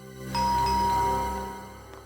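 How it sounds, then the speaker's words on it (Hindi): A two-tone electronic doorbell chime rings once indoors, clear and fairly close, then fades out into quiet. "इस वक्त मेरे घर की घंटी बजा रहे हैं"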